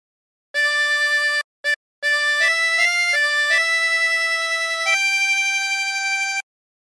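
A diatonic harmonica plays a slow phrase of What a Friend We Have in Jesus with bent notes, clear sustained reedy tones stepping between pitches after two short opening notes, up close and alone.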